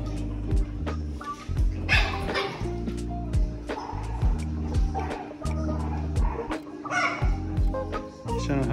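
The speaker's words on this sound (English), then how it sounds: "All the puppies." Several puppies at a homestay in the Philippines bark and yip in quick, overlapping bursts, loud and close, with occasional whimpers and a rooster-like call in the mix for nearly nine seconds.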